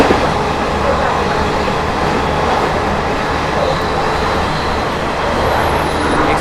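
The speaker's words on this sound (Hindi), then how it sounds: "अलीगढ़ जंक्शन करीब 90-100 की स्पीड में हम लोग क्रॉस कर रहे हैं।" Ranchi Garib Rath Express running through Aligarh Junction at about 90–100 km/h, a loud, dense, continuous rushing rumble of wheels and wind heard from inside the train.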